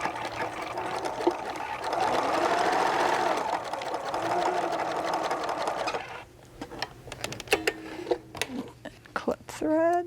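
Sewing machine stitching down the side seam of a fabric pouch, a steady continuous whir for about six seconds, then stopping into quieter rustling and short handling sounds.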